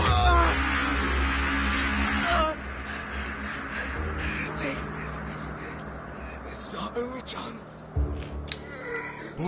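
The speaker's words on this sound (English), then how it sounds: "Bird." A crow-like bird caws in the video game Sacralith, with a few harsh calls over game ambience and people talking.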